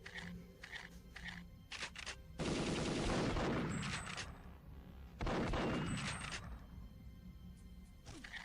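The laptop gun fires in Perfect Dark, rapid bursts of automatic gunfire with two long loud volleys and shorter shots between, close and punchy with game effects trailing each burst.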